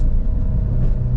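Manual car engine revving under throttle while shifting into second gear during a hill-start driving lesson, a steady loud low rumble throughout with no pause.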